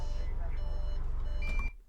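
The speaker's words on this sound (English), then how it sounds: "That beeping is the emergency door release alarm." An emergency door release alarm beeps steadily under a deep, constant engine rumble. The thin electronic tone is partly buried in the drone and brightens briefly near the end, just before the noise drops away.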